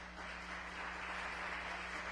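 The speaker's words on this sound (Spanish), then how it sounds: "¿Por qué no le da un aplauso a México?" An audience at a church gathering in Mexico applauds steadily, a dense, sustained wash of clapping with no talk over it.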